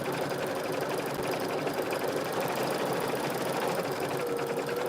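An embroidery machine sews a satin stitch with a fast, even mechanical chatter that runs continuously and close throughout.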